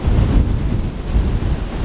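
Ocean waves at the shore roll in and draw back, a loud continuous low rumble of surf with wind noise buffeting the microphone, swelling and easing over a couple of seconds with no voices.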